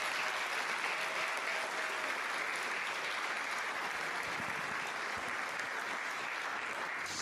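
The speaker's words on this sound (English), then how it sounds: "I think she deserves another round of applause." An audience at a Sierra Leone tourism investment expo gives sustained applause, a dense, even wash of clapping for over seven seconds without pause.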